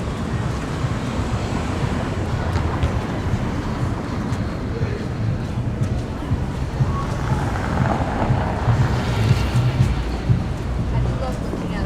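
Cold January wind gusting along a Toronto entertainment district street on a Saturday evening, a constant heavy low rumble buffeting the microphone, with people talking underneath.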